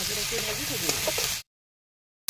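Half-fried eggplant pieces stirred while frying give a steady hissing sizzle with a voice talking over it. The sound cuts off abruptly partway through.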